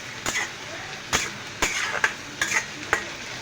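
Grated onion frying in a pan, a soft continuous sizzle punctuated by sharp, regular taps and scrapes of a spoon against the metal, close and fairly loud.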